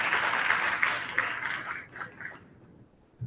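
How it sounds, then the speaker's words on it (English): An audience gives a round of applause for Reverend Gerting at an education council gathering, with a few sharper claps over the crowd before the sound thins and fades away into near quiet. "let's give Reverend Gerting a round of applause"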